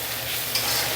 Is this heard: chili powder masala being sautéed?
yes